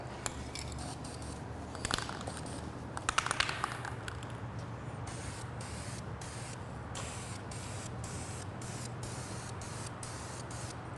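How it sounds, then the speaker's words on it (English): Aerosol paint sprays onto engine bay parts of an El Camino in short repeated hissing bursts with a faint can rattle, close and steady, with gaps between passes. "So go ahead and get this sprayed."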